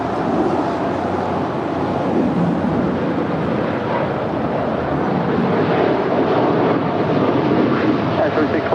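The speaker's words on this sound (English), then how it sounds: "This is United Airlines 2614 departing to New York Liberty. It's a 3-year-old 787-10 Dreamliner." A three-year-old United Airlines Boeing 787-10 Dreamliner departing LAX for New York, its broad jet roar steady and fairly loud throughout, with a voice talking over it.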